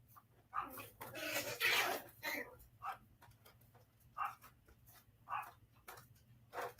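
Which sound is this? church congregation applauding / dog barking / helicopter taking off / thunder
dog barking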